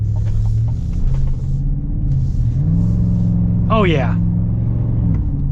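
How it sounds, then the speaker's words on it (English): A 2024 Chevrolet Silverado with a 6.2 V8 and active exhaust gives off a steady, deep rumble that swells slightly as it revs, running loud and close beneath a voice. "Yeah, that's definitely an active exhaust. That's so cool. That is such a cool sound. It's got this nice rumble to it"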